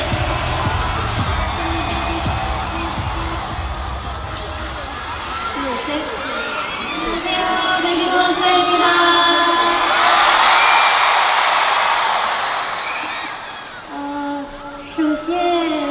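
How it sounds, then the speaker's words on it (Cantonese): Audience applause and cheering at an international music awards ceremony, a dense continuous crowd roar that swells to a peak midway before easing off, with voices mixed in. "掌聲。"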